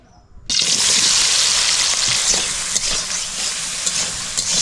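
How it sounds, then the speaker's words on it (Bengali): Crab frying in hot oil in a wok, starting abruptly with a loud, steady broadband sizzle that holds strong throughout with small crackles and pops, close and alone. "তেল গরম হয়ে গেছে এবার মাছ ভেজে নেব"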